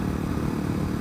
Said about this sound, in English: my bike sounds a little bit different